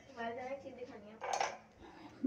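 Dishes and cutlery clink and clatter close by in a home kitchen while breakfast is made, with a voice speaking over the clatter and a brighter clash of metal midway.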